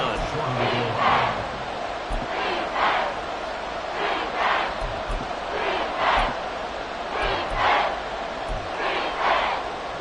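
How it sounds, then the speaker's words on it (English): A roaring stadium crowd at Arrowhead fills a professional football game with loud, sustained noise, pulsing in repeated swells roughly every second or two. "this is where the Arrowhead crowd can make it very tough"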